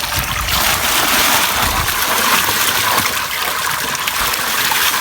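Water gushes steadily from a tube well turbine in Shakargarh, Pakistan, a loud close continuous rushing and splashing with no talking over it.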